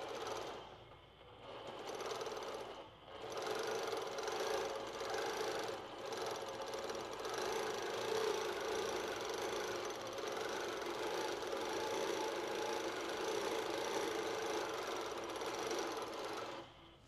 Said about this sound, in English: And then you're going to stitch across the bottom.